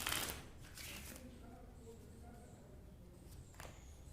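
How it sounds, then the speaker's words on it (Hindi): A deck of playing cards is shuffled once or twice by hand for a card trick, giving soft riffling and flicking that fade into quiet rustling and handling noise. "मैं डेक को 1-2 बार शफल भी कर सकता हूँ"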